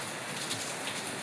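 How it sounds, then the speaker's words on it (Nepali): Rain falls outdoors, a soft, steady hiss of drops spread evenly and heard faintly from start to finish, with no voices. "सही हो फाइनल्ली पानी पर्यो"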